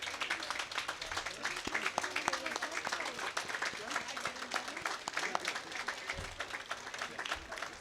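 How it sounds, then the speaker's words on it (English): A crowd at a Baldwin Park Veterans Day 2019 ceremony applauds currently serving veterans, steady dense clapping filling the whole stretch with scattered voices and cheers mixed in. "We'll give you a big round of applause."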